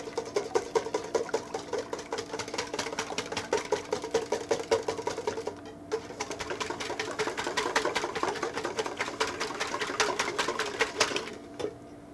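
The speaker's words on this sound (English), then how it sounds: "So in here we have 6 eggs. What you want to do is make sure you whisk these really nicely." Six eggs whisked by hand in a bowl for a breakfast dish, a fast, steady clicking rhythm of the whisk against the bowl, close and continuous with a brief pause midway.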